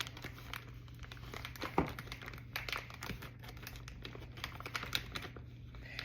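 Plastic crinkles and clicks faintly as a freezer bag filled with breastmilk is zipped shut, a soft irregular rustle over a steady low hum.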